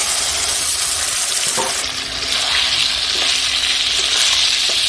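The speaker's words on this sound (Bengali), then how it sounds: "মাংসটা একটু ভেজে ভেজে ভাজা ভাজা করে নেবো।" Chicken pieces frying with onions in a pan for a chicken and elephant foot yam curry: a loud, continuous close sizzle with occasional stirring knocks and scrapes, no talking.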